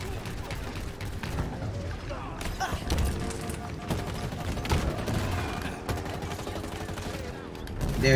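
Rapid gunfire in Halo Infinite, near-constant bursts and chattering shots over a rumbling vehicle backdrop, with someone speaking over the shooting.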